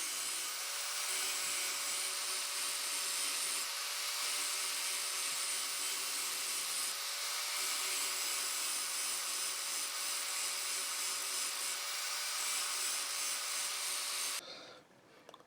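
Steady hand rasping or sawing on a wooden warhammer spike being tapered, a continuous close scraping texture that runs evenly before stopping abruptly near the end.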